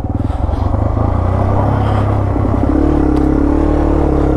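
Yamaha TW200 dirt bike ridden at Wildomar off-road park: a loud, close single-cylinder engine thumping steadily, pitch rising slightly as it pulls along, with no talk.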